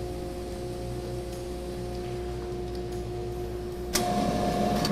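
An old shop dust collector runs with steady suction, a constant close broadband roar with a faint tonal hum and a slight jump in level near the end, no voices.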